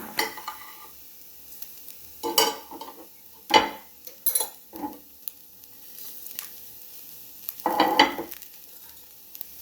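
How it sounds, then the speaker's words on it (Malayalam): A sugar mixture is stirred in ghee in a pan while making elaji. Intermittent scraping and sizzling bursts rise over a quiet background hiss, with several separate stirring strokes close by. "ഇതെല്ലാം ഒന്ന് മിക്സ് ചെയ്യുന്നു"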